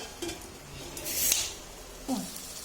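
A lid clatters onto a cooking pot of Khandeshi brinjal bharit, one bright metallic clank in the middle against a low kitchen hum, with softer scrapes on either side.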